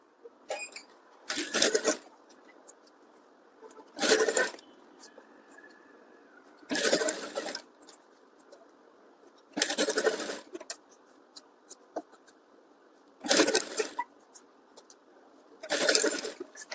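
A sewing machine stitches the joint of a princess-cut blouse in short runs of rapid mechanical chatter, about six bursts separated by pauses, over a steady low hum.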